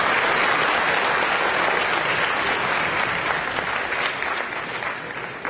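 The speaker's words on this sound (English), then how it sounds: "Let's give him a round of applause." Loud, sustained applause from an audience at a talk featuring Karen Korematsu, daughter of Fred T. Korematsu, dense clapping filling the whole stretch and easing slightly toward the end.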